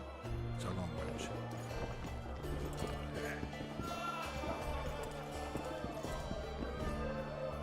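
Hoofbeats of Roach, a horse in The Witcher II, clip-clop at a gallop, rhythmic and steady, moving off under game music and ambience with a voice speaking.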